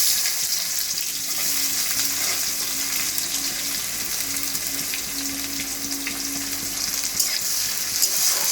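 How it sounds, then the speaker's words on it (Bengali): Onions fry in hot oil in a pan for an egg curry, making a dense, even sizzling hiss close by with a faint low hum beneath and a few soft stirring sounds, with no speech. "এবারে পেঁয়াজ দিচ্ছি।"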